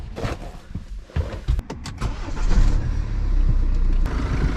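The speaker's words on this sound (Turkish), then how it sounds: "Şimdi ben bu Audi'yi bir çalıştırayım." An Audi car engine starts up nearby after some clicks and handling noises, catching and settling into a loud, steady idle rumble that holds through the end.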